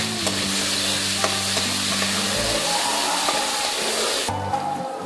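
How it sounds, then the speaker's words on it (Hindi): Garlic paste frying in oil in a pan, a loud continuous sizzle with stirring scrapes, close and steady throughout, with a faint low hum underneath. "लहसुन के पेस्ट को पहले थोड़ा सा भून लेंगे।"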